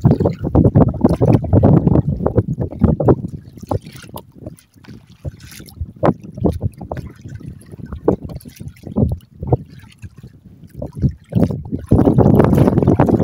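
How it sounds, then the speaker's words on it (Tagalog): Gusty wind buffets the microphone in uneven bursts while fishing from a boat, with low rumbling and water sloshing faintly beneath, loud at the start and end. "Ito yung hangin malakas."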